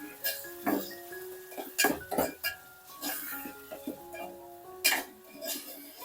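A spoon stirs onion, tomato, ginger-garlic paste and salt in a metal pot, making scattered clinks and scrapes, with a few sharp knocks and someone talking over it.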